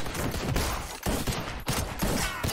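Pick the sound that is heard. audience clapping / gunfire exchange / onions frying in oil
gunfire exchange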